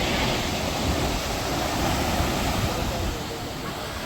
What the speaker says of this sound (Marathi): या लाटा बघा बऱ्याच मोठ्या लाटा तयार होत आहे